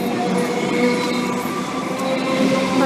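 A Melbourne suburban electric Comeng train pulls out of Broadmeadows station, a loud, steady rumble of wheels and motors with faint squealing tones close by.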